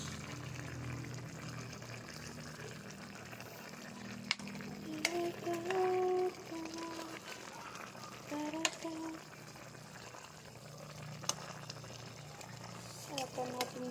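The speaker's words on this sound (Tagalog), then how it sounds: "Haluin natin ng mabuti." Chicken drumsticks with pineapple being stirred in a pan: soft scraping and clinking of a spoon over a steady sizzle, with someone talking faintly now and then.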